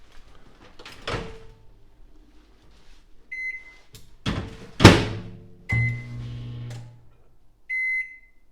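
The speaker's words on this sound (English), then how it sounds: "Oh, there is a microwave. Does it work?" Several clunks and thumps of a microwave oven door and handling, followed by short electronic beeps from the microwave, with quiet gaps between.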